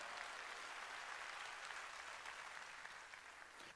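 A church congregation claps together during a Sunday worship service, a dense, even roar of many hands that holds steady and fades slightly toward the end, heard from a distance in a reverberant hall.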